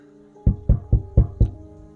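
Five sharp knocks on a house door at night, evenly spaced and fairly loud, heard alone with no voices.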